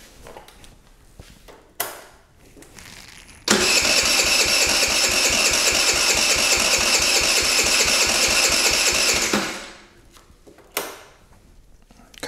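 A scooter engine cranks and catches: brief starter bursts, then a loud, steady mid-pitched running roar for about six seconds before it cuts out, followed by another short crank, close up with no talking.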